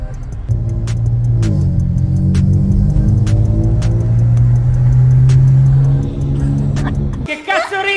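Steady engine drone of a KTM 2.0 DI car cruising, a low continuous hum with faint rising tone under talking, ending in a brief clatter.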